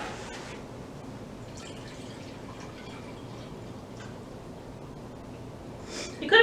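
White cranberry juice poured over ice for a mocktail, a steady wet trickle running for several seconds with a brief clink of ice near the end.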